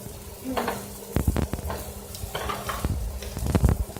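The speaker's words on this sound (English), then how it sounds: "all you do basically is you'll just stir until it's completely fried" Chicken pieces frying in oil while being stirred, with steady sizzle under repeated sharp scrapes and clinks of a utensil against the pan, close and fairly loud.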